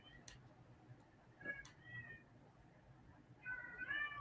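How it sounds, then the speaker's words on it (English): A house cat meows in a quiet indoor room near a desk, with a couple of short, fairly faint meows spaced apart, the last one drawn out slightly. "You hear my cat?"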